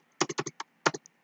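A computer keyboard being typed on in a short burst, about five quick keystrokes, a pause, then two or three more, close and crisp in a quiet room.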